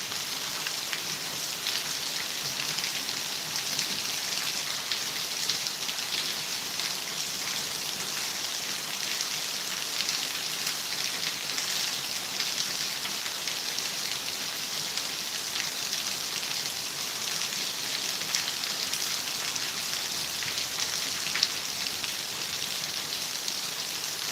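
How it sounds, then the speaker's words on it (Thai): Heavy rain pours steadily on a surface throughout, a dense, even hiss of drops with no talking. "ฝนตกหนักเรื่อยๆเลยพี่"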